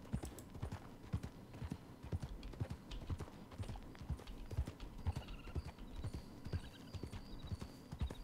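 Steady clip-clop of horse hooves on hard ground in Red Dead Redemption 2, a brisk repeating rhythm that carries on throughout with no talking.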